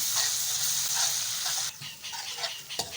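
Onion, garlic and ginger sizzle steadily in hot oil in a pan, a loud continuous frying hiss that drops a little partway through as the pan settles, with small crackles and a brief clink near the end.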